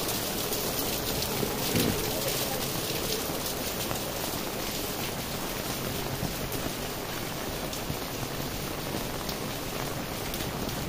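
Light but steady rain falls on Trần Bình Trọng street, with water streaming down toward a drain. It makes a constant, even hiss throughout, with no talking.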